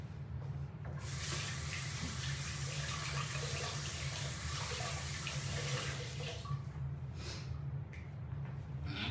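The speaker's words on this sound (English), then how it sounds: "Let me wash my hands real quick." Steady tap water runs into a kitchen sink as hands are washed beneath it, a continuous close splashing rush with small shifts where the hands move through the stream.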